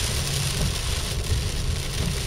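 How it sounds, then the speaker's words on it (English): Heavy rain pours steadily on a bright, sunny day, a dense continuous wash of drops drumming on surfaces, close and loud with no voices. "it's raining like hell"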